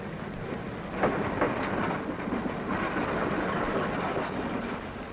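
Railroad freight cars rolling over the hump in a classification yard, a steady low rumble with a few sharp clanks from couplers and wheels, continuous and moderately loud, no voices.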